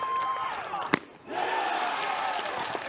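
A college baseball crowd roars steadily at the Coral Gables Regional between Ole Miss and Arizona. The broad, sustained noise dips briefly after a sharp pop near the one-second mark, then swells back to full volume.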